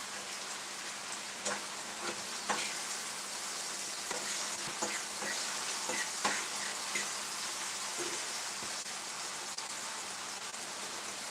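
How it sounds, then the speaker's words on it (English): Seasoning for mackerel sizzling and frying in a frying pan, a steady soft crackle with scattered small pops throughout, fairly quiet and with no talking. "the seasoning is cooking down into the frying pan"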